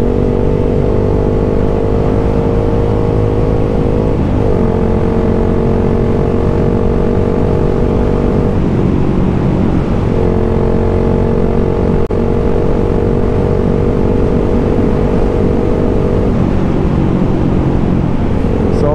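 A Suzuki Gixxer 155 motorcycle fitted with an SE project exhaust is held at high RPM on a night ride, a loud, steady, buzzing engine drone that dips and rises slightly in pitch, continuous throughout.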